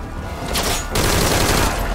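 Rapid automatic gunfire in Metal Gear Solid V: Ground Zeroes, a loud continuous fusillade of shots with a sharp surge partway through, filling the whole moment without talk.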